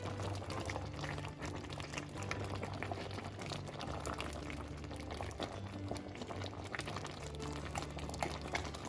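Thick Jamaican red pea soup simmering steadily in a pot on the stove, a continuous dense bubbling and popping that stays loud and close throughout, with no talk.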